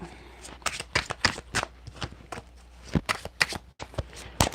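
A deck of tarot-style cards shuffled by hand during a reading, with a rapid run of close, crisp riffling snaps and flutters in uneven bursts throughout.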